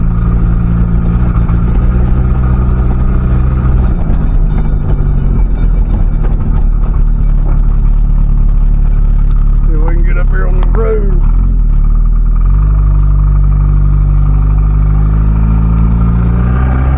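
A 1977 Chevy Luv pickup truck's engine drones loudly and steadily while driving. The engine note dips briefly mid-run as the gears change, and a voice speaks over it.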